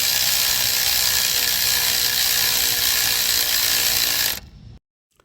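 A ratchet whirs in a loud continuous buzz while tightening an exhaust clamp on the catalytic converter of a 2021 Ford Bronco Sport or 2020 Ford Escape, then stops abruptly and leaves silence.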